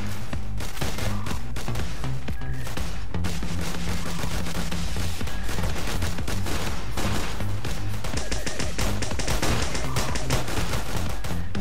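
Dense, relentless machine gun fire in a Roblox game, rapid loud bursts running almost without pause for over ten seconds, layered shots from more than one weapon, no speech.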